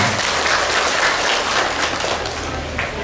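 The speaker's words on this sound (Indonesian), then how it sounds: "Tepuk tangan sekali lagi untuk Pak Sadewo" A crowd at a regency event applauds for the regent, and dense, loud clapping holds steady from start to finish with no voices over it.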